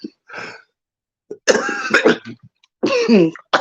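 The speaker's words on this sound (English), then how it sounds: "I got the cough back" A few rough coughs and throat clearings, close and loud, separated by short silences.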